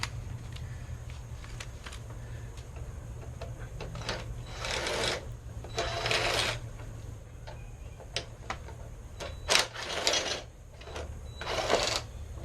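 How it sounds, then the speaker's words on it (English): Four T25 bolts being removed from the window motor of a 1995 Chevy Silverado, heard as several short bursts of whirring, ratcheting tool noise with irregular gaps, close by over a steady background hum. "held on by 4 T25 bolts, and we're just going to take those bolts out."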